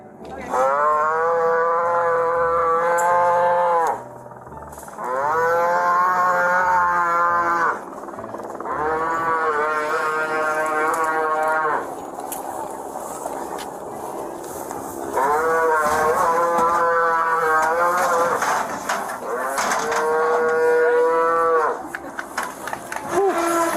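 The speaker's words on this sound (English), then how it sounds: "some local farmers show up and manage to safely wrangle the cow" Cattle mooing loudly and repeatedly in long drawn-out bellows while local farmers wrangle a loose cow, with short pauses between calls and faint background noise.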